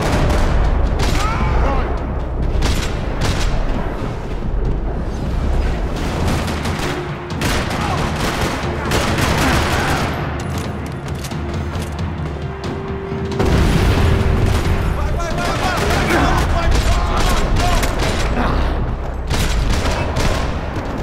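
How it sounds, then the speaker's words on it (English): Rapid bursts of gunfire in a parking lot in the video game Max Payne 3 crackle and boom continuously, dense volleys overlapping with heavy low thuds, loud and sustained throughout. "Another parking lot rattling with gunfire."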